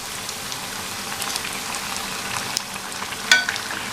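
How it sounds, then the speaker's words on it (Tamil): Rava bondas, balls of semolina batter, deep frying in hot oil with a steady, soft crackling sizzle and a few light scrapes as they are gently turned, close by with no voices. "இப்போது ஒவ்வொரு போண்டாவாக லைட்டாக பரட்டி விட்டுடலாம்."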